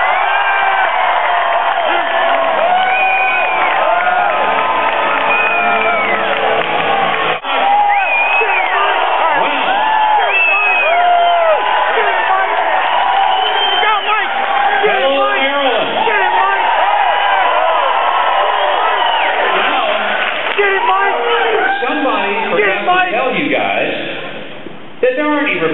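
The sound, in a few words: crowd cheering for Mike Huckabee at University of Maryland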